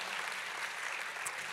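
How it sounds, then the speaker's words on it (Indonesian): Church congregation applauding, a steady wash of many hands clapping together at a distance, fairly faint and even for the whole short stretch with no talk. "Kalau mau tepuk tangannya yang dahsyat buat Yesus Tuhan kita."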